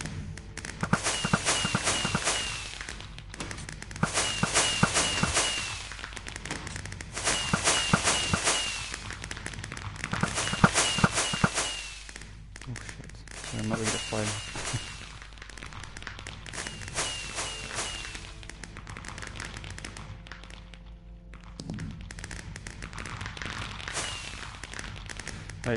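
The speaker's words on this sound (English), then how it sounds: "Right, so that's the fireworks." Fireworks going off in Minecraft on a PS4 castle build: repeated bursts of crackling pops in clusters, fairly loud and close, fading to scattered softer crackles, with no talking.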